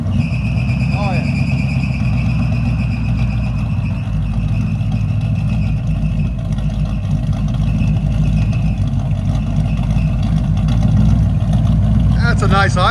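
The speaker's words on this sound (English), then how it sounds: "That's a nice idle. '85 Chevy Monte Carlo." A 1985 Chevy Monte Carlo with a 305 V8, true duals and straight-pipe exhaust, idling steadily with a deep, loping rumble close by while someone talks over it.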